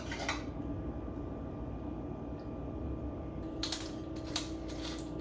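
Rigatoni pasta in tomato and sunchoke cream sauce is spooned into a bowl, with soft clinks and scrapes of utensil against dish sounding close, plus a couple of brighter knocks near the end.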